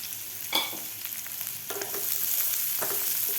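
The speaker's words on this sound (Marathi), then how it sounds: "कांदा आपल्याला व्यवस्थित थोडासा गुलाबी रंगावर इस्तर परतून घ्यायचा आहे" Thickly sliced onions frying in oil in a pan, an even close sizzle with occasional spatula taps and scrapes as they are stirred.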